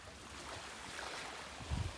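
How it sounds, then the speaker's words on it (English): Ocean waves wash onto Locloc Beach in Bauan, Batangas, a soft, steady surf with a gentle swell and a low rumble near the end, heard from a fair distance under light wind. "There's the ocean, the beach."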